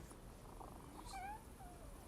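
A kitten in The Thaumaturge video game gives a single short, faint meow midway, rising then dipping, over a steady hiss of background ambience.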